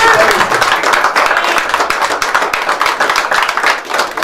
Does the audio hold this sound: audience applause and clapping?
yes